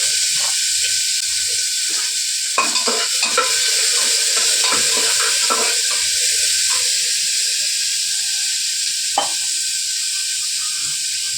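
Steady frying sizzle with a constant hiss, broken by a few soft scraping stirs and clinks of a utensil against the pan.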